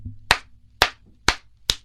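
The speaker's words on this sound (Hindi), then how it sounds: "ताली बजाते हो" Four sharp, loud hand claps ring out at a steady pace, close and alone, as someone swats at a mosquito.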